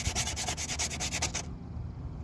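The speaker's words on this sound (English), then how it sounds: "then right around 100 grit sandpaper to shave off most of it" Rhythmic back-and-forth rasping of 100-grit sandpaper scrubbing old gasket material off a Jeep Cherokee 4.0L cylinder head, close and steady for about a second and a half before it eases off.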